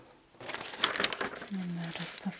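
Paper crinkled and handled while crafting a greeting card, with crisp rustling bursts close by, mixed with a speaking voice.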